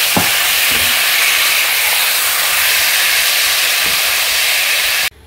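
Marinated chicken cooks in a little hot oil for a chicken paratha roll, giving a loud, steady sizzle and hiss with a few faint stirring clinks, cut off abruptly near the end.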